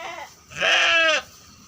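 A ewe of a Santa-cross breed bleats once after lambing, a single clear wavering call lasting about half a second, close and loud against a quiet background.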